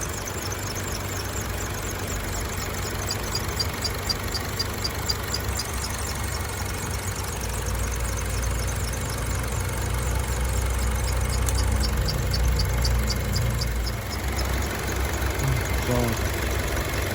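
A Buick Encore Ecotec engine idles steadily after a turbo replacement, a close, even mechanical hum with a faint ticking rattle running throughout and slightly louder toward the end.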